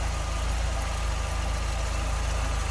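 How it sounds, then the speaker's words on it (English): 1978 MG MGB convertible single-carb engine idling smoothly and evenly, a steady low rumble heard close up from the open engine bay, with no voices over it. "Smooth running engine."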